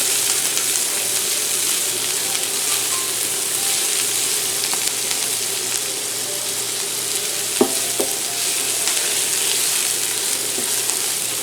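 Onions sweat in a pan for vegetarian samosas with a steady, close, broadband sizzle and a couple of small clicks, no voices heard.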